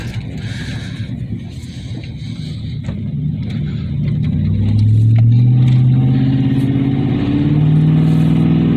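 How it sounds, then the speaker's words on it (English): A lifted 2009 2500HD truck with a 6.0 gas engine tows about 5,000 lbs, its engine droning and rising in pitch as it accelerates and the transmission shifts, loud and close. "what it's like driving a lifted truck with weight on the back here. Transmission's doing its thing."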